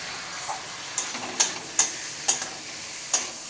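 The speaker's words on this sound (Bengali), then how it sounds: "পেঁয়াজ রসুন লঙ্কাটা মোটামুটি ভাজা হয়ে গেছে, এবার আমি দেবো এতে মাংস" 500 g of chicken goes into onion, garlic and chilli frying in a pan for Gondhoraj lemon chicken, giving a soft, steady sizzle broken by a handful of sharp clicks and scrapes from stirring.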